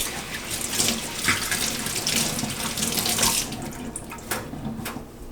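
A kitchen tap runs into the sink while fresh thyme is rinsed under it, a close, steady splashing stream with brief surges and bursts as the herbs are moved through the water.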